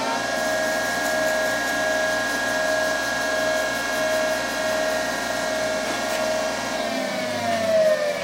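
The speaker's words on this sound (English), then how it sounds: "Turn my lathe down a little bit so I don't generate too much heat" A lathe spins steadily with a sustained whine, slowing toward the end, while a resin pen blank cast from Alumilite White is sanded with 1500-grit micro finishing cloth. There is no talk.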